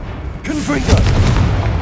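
Confringo fire spell cast in Hogwarts Legacy on PS5: a deep booming blast with rumbling explosion tail, following a voiced incantation and lingering loud under game effects.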